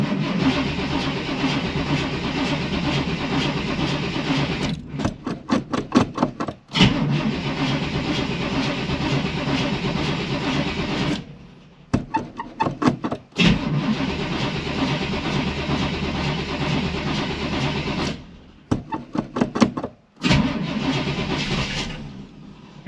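1937 Buick street rod with an Edelbrock carburetor on a cold start, repeated rhythmic cranking bursts broken by pauses, with the engine catching and running in a loud close-up rumble between attempts.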